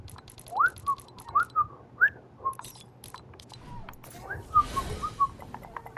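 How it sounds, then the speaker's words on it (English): A person whistles a short tune in rising chirpy phrases with gaps, close and fairly clear, with faint clicks and background noise. "I have to whistle to make it more ironic."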